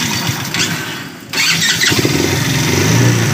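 A motorized Mishuk vehicle with a self-start engine starts up: a brief starter whirr, a short dip, then the engine catches and settles into a loud, steady close idle with no talk.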